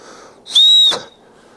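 A single short, shrill whistle blast from a Leatherman Surge multitool's built-in whistle rings out, loud and close, lasting under half a second against a quiet background.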